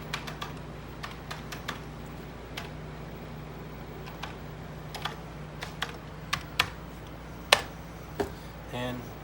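Rapid clicking of keys on a computer keyboard, irregular bursts of taps with a few louder strokes, close by over a faint background hum.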